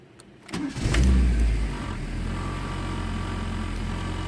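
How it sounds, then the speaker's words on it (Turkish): A Fiat Tempra engine running on petrol after spark plug servicing cranks briefly, catches quickly, and settles into a steady, even idle. "revizyonu yaptıktan sonra arabayı benzinde çalıştırınca bakın ne şekilde"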